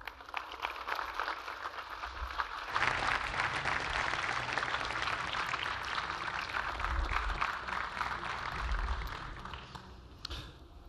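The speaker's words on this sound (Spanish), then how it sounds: "recibamos con un fuerte aplauso a Wayne Gilbert" Conference audience applause welcoming an animation speaker, a broad sustained wash of many hands clapping that swells after a couple of seconds, holds steady, then tapers off, heard at a distance and fairly faint.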